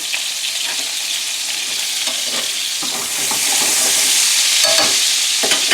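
Sriracha-blend chicken meatballs fry in a pan, giving a steady, bright sizzle with occasional stirring scrapes, growing slightly louder partway through, with no talking.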